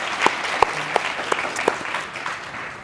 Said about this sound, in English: Let's give Tembi a big round of applause.